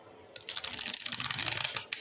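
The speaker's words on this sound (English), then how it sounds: "Give the card a few shuffles." Tarot cards from a miniature borderless Smith Waite deck riffle and slide against each other in a quick, close shuffle of crisp papery ticks lasting under two seconds, with no talk.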